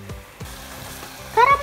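Caramelized bananas fry in a pan, a soft steady sizzle with brief stirring scrapes and a brighter burst of hissing near the end, close by.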